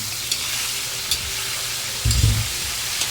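Chicken, boiled beforehand and now added to a pan of sautéed aromatics for pancit, sizzles steadily while being stirred, with a louder scrape and burst of frying near the end.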